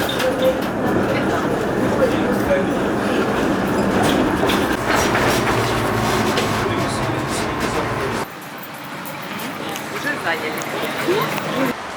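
A tram in Odesa, Ukraine rumbles and rattles along the tracks with steady clatter, loud and close, easing slightly toward the end.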